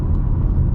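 A 2020 Ford Mustang GT with an E85 flex tune at half throttle gives a brief, deep, steady engine rumble heard from inside the car, loud and close, with no talk.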